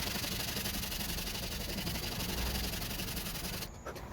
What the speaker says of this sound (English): I'm just going to quickly grab some other sandpaper to use by hand when it starts to curve.